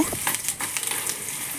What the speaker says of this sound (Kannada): ಸೊ ಒಗ್ಗರಣೆ ಆಗ್ತಿದೆ ಅಲ್ವಾ